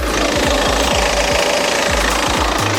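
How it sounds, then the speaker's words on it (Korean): A diesel SUV engine idles up close with the bonnet open, a steady, loud rumble and regular knocking clatter, running continuously with no voices. "디젤 엔진이라 어느 정도 소음은 있지만"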